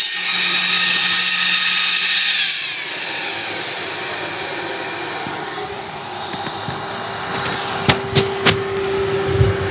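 A Vertigo PCP air compressor runs steadily while filling air, a loud continuous whine and mechanical drone that shifts lower after a few seconds, with a few sharp clicks near the end and no talking.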